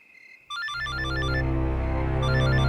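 A telephone rings with a steady electronic trill, repeating its bright tone loudly and close for a few seconds with no voices over it.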